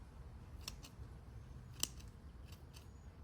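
Scissors close by snipping dead blooms off a succulent plant, giving a few faint, sharp clicks and one crisp cut in an otherwise quiet space with no talk.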